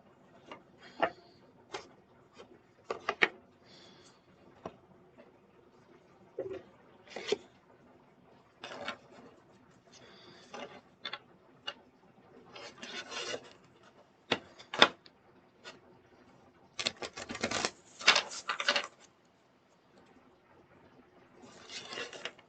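A Sacred Forest oracle card deck shuffled by hand, giving intermittent papery riffles and soft rubbing bursts, close and fairly quiet, with short pauses between shuffles and a longer dense run near the end.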